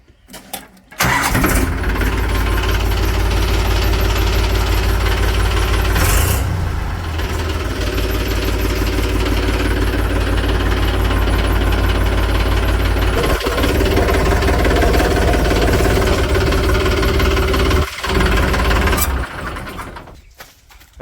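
A tractor engine runs loud and steady close by for about twenty seconds, a heavy continuous rumble with no voices.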